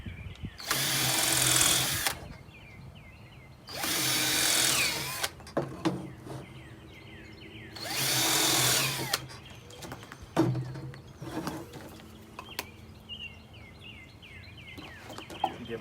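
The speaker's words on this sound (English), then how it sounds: "We're going to go ahead and drill these." A power drill drilling wood for a bird feeder runs in three loud bursts, separated by pauses filled with clatter and handling noise.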